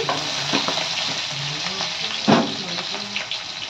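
Onion, bay leaf and nigella seeds fry in hot oil in a close, continuous sizzle, with a few stirring scrapes and one louder clatter partway through.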